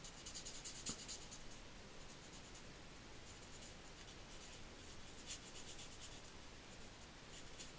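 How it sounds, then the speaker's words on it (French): Pencil scratches and rubs quickly across a paper card while colouring butterflies, in soft, close, continuous strokes with small bursts of quicker scribbling. "Colorier vite fait."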